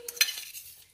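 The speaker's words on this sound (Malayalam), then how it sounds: "അരച്ച ഇത് വെച്ച് ഒന്ന് ഇളക്കും. ഇത് നല്ലോണം മിക്സ് ചെയ്യണം." Ground spice paste is stirred in coconut oil in an iron pan: a brief, faint scrape and a couple of quick strokes, with a soft sizzle fading into quiet.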